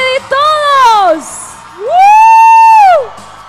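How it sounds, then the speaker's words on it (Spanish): Loud festival crowd shouts at an annual community celebration in Alta Gracia: two long, rising-and-falling euphoric yells, the second held strongest and closest, with brief cheering between them. "Ese grito bien fuerte, el más fuerte de todos."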